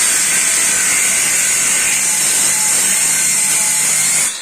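A GTM AG 125/1400VS angle grinder on speed setting 2 runs with a loud, steady high-pitched whine. It holds constant for about four seconds, then cuts off abruptly at the end.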